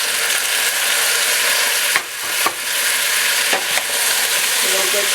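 Beef stew of meat, potatoes, carrots and onions sizzling loudly in a pot while being stirred, with a constant hiss and a few sharp scrapes of the spoon.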